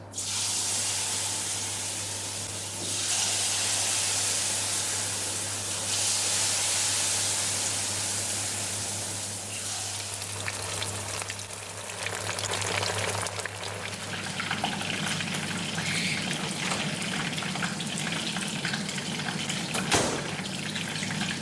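Battered snapper pieces sizzling in hot oil, a steady loud hiss and crackle of deep frying that roughens and shifts partway through as the fish is stirred.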